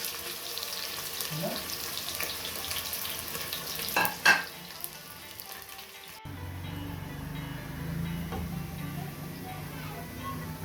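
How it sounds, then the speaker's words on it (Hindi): Sliced onions go into just under half a cup of hot oil for palak gosht, sizzling steadily and loudly up close, with a brief clatter partway through before the frying settles into a lower, fuller hiss. "ऑयल गर्म हो चुके हैं अच्छे से। अभी इसमें ऐड करने जा रहे हैं प्याज।"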